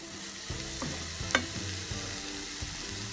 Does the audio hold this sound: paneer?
yes